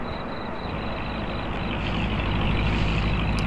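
A vehicle pulls up in a Roblox video game, its low truck-like engine rumble swelling steadily louder over a few seconds with a faint hiss near the end, no voices over it.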